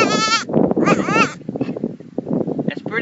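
A goat gives two loud, wavering bleats close by, followed by softer rustling and a brief third call.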